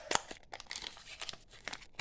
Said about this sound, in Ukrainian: Так, відкриваємо пакетик